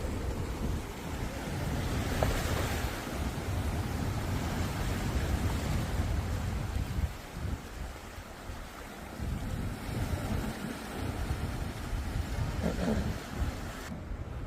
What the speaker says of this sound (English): Listen to the waves crashing.